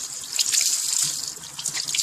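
A new sponge is rinsed under running tap water, a steady close hiss of the faucet stream with splashing and dripping into a sink, no voices.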